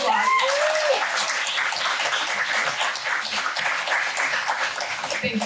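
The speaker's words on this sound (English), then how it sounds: "Let's give Ava a round of applause." An audience in Los Angeles gives a round of applause for a guest, a thick, lively burst of clapping from a room full of people that stays strong throughout, with a brief vocal whoop near the start.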